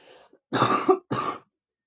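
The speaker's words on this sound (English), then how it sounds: "My cough has been horrendous" A person coughs two harsh, close bursts in quick succession after a faint breathy lead-in, during a winter illness with a horrendous lingering cough.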